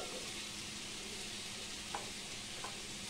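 Chow mein lightly frying in oil in a pan, a steady soft sizzle with a couple of faint clicks of stirring, no voices.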